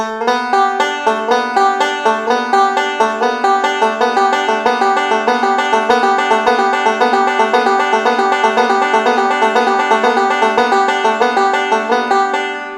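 A banjo plays the same rolling four-point hammer-on lick repeatedly at a brisk, even tempo, notes ringing clearly and closely with no talking.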